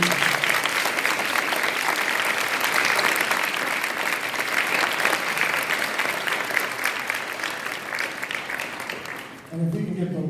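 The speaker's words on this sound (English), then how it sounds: "Let's have another round of applause for Dr." An audience applauds a lecturer after her talk on Islamophobia, race and global politics, steady sustained clapping filling the room for about nine seconds before fading out as a voice begins speaking at the end.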